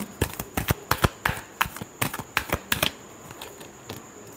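Tarot cards are shuffled with a rapid run of crisp, close slaps and riffles for about three seconds, and then the sound fades to a softer rustle.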